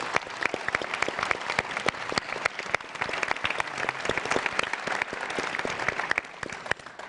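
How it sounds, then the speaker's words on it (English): A large Grammy awards crowd claps for performers, a broad continuous wash of applause with crisp individual claps, heard from a distance and fairly faint. "I would give these guys a round of applause for what they did"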